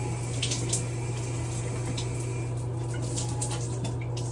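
A hot shower runs continuously, a steady hiss of falling water with no voices, even and close throughout.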